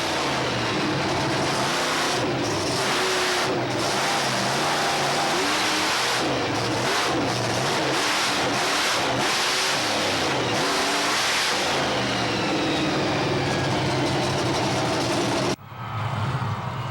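A loud, heavy monster truck engine, the Bounty Hunter, roars and revs continuously, surging up and down in pitch before cutting off sharply near the end.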